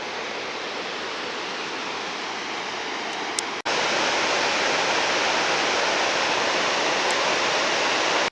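Continuous broadband rushing roar of a waterfall in Idaho, steady and fairly loud, with an abrupt jump in level partway through as if moving closer.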